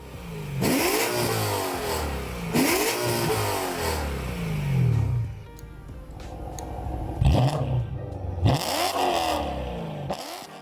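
A BMW E9x M3's high-revving naturally aspirated V8, fitted with a Valvetronic valved exhaust, blips sharply several times, each loud, close rev climbing and falling quickly, with a lull of idle between bursts.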